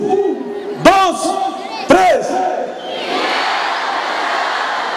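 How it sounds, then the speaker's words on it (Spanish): A concert crowd shouts in unison twice, two loud short collective cries, then breaks into a sustained, distant-sounding roar of cheering and noise. "Yo cuento tres y ustedes hacen el saludo. Pero también gritan, Video Control."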